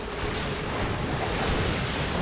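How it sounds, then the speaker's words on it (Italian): Rushing water pours down in the Tomb Raider video game, a steady, dense roar like surf that holds at an even level throughout with no voices. "Qua arriva l'acqua."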